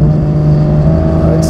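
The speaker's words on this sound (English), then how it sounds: "Sound of this exhaust is exquisite." A Porsche 992 GT3 with a straight pipe exhaust holds a loud, close, steady drone, with deep rumbling harmonics through a brief rev.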